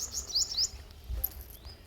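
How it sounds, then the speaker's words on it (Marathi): Several birds chirp and tweet near a tomato field, short high calls scattered over a faint outdoor hush, fairly distant and soft. "खूप सारे पक्षी या ठिकाणी त्यांचा आवाज येतोय"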